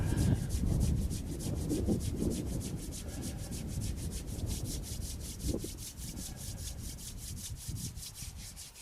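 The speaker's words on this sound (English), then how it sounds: "And rub your hands all over." Continuous close rubbing of hands during a qigong exercise session, a steady broadband friction sound with no talk over it.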